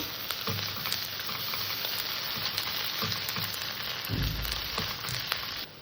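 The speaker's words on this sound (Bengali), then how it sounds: "অল্প করে একটু আদা রসুন বাটা দিয়ে দিলাম আদা রসুনটাকে হালকা করে কষে নেব" Ginger-garlic paste frying lightly in a pan for a pointed gourd bharta, giving a dense constant sizzle with occasional low thumps of stirring and no voices.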